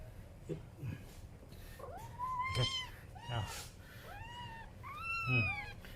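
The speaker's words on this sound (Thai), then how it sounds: "ลูกแมวห้าตัวนะครับ แย่งกัน ดูดนมแม่อยู่" Five kittens meow repeatedly in high, rising-falling cries, overlapping one another while competing to nurse from their mother, close by with some rustling underneath.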